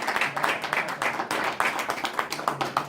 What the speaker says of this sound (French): j'aimerais que vous en profitiez pour vous applaudir d'avoir pris la décision.